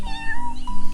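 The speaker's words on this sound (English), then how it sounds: "She simply blinked and gave the bravest little mew." A tiny kitten gives a single loud, drawn-out meow close by, with a bright, wavering tone and a brief rise at the end, heard alone with no talking.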